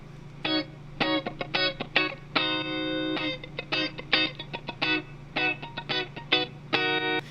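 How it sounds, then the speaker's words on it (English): Choppy funky electric guitar with muted scratches and short chord stabs in a syncopated rhythm, effected and upfront over a low steady hum. "So a cool little funky guitar"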